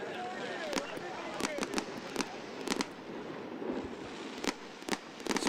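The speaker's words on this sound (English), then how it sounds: "We're going to see some fireworks." Fireworks burst over the outfield of a kickball field at a charity kickball event, with irregular sharp cracks and pops at varied distances over a steady crowd murmur and people talking.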